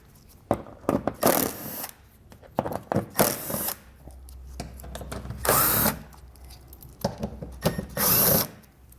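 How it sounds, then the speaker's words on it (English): A power driver with a T30 Torx bit backs out fascia screws while a Roadmaster base plate is installed on a 2022 vehicle, giving several short, close whirring bursts separated by clicks and handling noise. "you're gonna have a total of 5 Torx bit screws you need to pull out"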